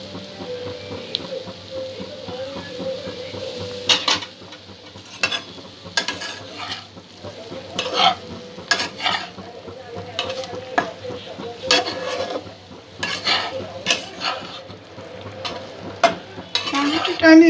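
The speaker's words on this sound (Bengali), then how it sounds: "পাউরুটিটা আমি মিক্স করে নিয়েছি সমস্ত সবজির সাথে" Bread pulao with mixed vegetables is stirred in a hot pan. A continuous sizzle runs under repeated scraping spatula strokes and metallic clinks, close up, with no talk.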